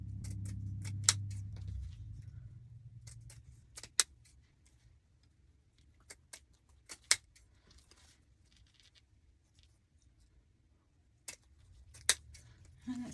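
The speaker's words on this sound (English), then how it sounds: "I will come through and trim my tails." Scissors trim the wired ribbon tails of a wreath bow, giving sparse, crisp snips scattered across a quiet room, close and isolated, with soft ribbon rustling between cuts.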